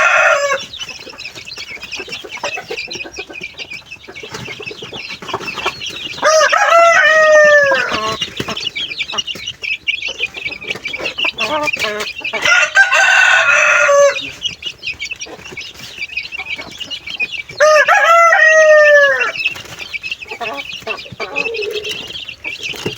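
Growing young chickens and a mother hen cluck and chatter nearby in a loud, busy stream, with several rising, drawn-out crow-like calls cutting through at intervals.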